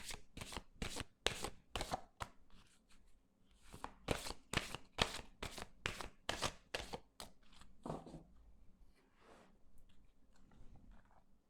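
Petit Lenormand cards being shuffled, a fast run of crisp riffling slaps in quick bursts, close and fairly loud, then a brief pause before a softer final shuffle.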